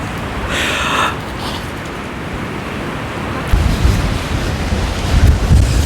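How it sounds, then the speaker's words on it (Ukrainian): Strong wind roars and buffets the microphone up high near the sea in Odesa, a steady rumble that turns gustier and louder partway through. "Ого, вітер який наверху."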